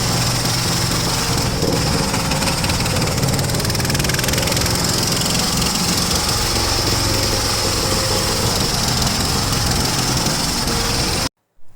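A motor trawler's engine drones steadily while the boat runs on the river near the Padma–Meghna confluence at Chandpur, a loud, close, continuous rattling hum that cuts off abruptly at the end.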